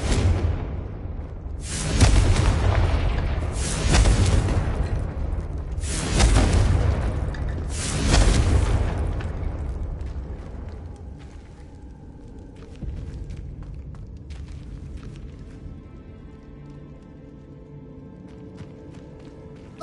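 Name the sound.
Confringo fire spell explosion, video game Hogwarts Legacy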